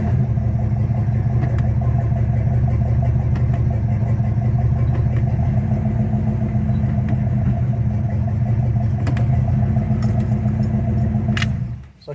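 A car engine idles steadily after being shifted into reverse, a loud, close, even rumble with a constant hum lasting about eleven seconds, accompanied by faint metallic jingles, before cutting off abruptly at the end.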